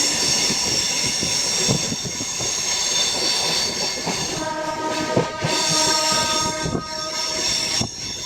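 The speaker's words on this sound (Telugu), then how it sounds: "మన ట్రైన్ స్పీడ్ అందుకుంది" A DEMU passenger train running at speed on Indian rails near Secunderabad, heard from on board as a loud continuous rumble with rhythmic wheel clatter and thin metallic squeals, no voices.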